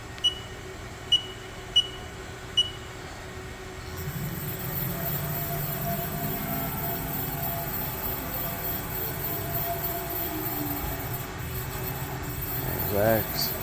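A 2018 Haas VF-4SS CNC vertical mill with high-speed machining and through-spindle coolant gives a few short beeps, then a quiet, steady motor whine as its axes travel, while someone talks over it.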